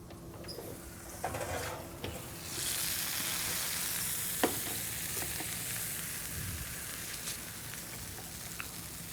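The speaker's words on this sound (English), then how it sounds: "So I'm going to sear it a little bit on each side, get some nice color" Pork tenderloin sears in a hot pan, a steady close sizzle and crackle running throughout with a few sharp pops and spatters, no voices over it.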